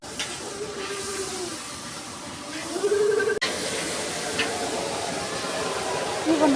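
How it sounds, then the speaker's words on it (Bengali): Fish frying in a pan at home, a steady close hiss and sizzle running throughout, with some faint background sounds mixed in. "মাছ ভাজি আছে"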